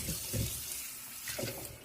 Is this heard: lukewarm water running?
yes